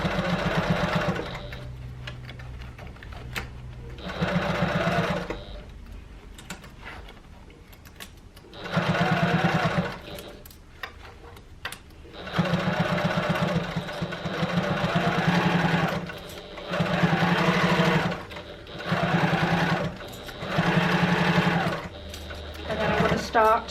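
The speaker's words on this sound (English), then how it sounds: "I'm going to start my seam again, taking it slowly round where this gusset is" A sewing machine stitches a tote bag lining seam around a gusset in repeated steady runs with pauses between, close and even. A voice talks during the gaps.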